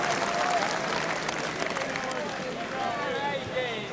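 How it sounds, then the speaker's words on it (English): A crowd at a bowls final applauds a good shot, a broad, steady patter of clapping from many hands, with a commentator talking over it. "An excellent ball, gets full applause from the crowd."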